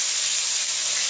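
Tomatoes dropped into hot oil with cumin and asafoetida in a kadhai, a loud, steady hissing sizzle filling the whole moment at close range.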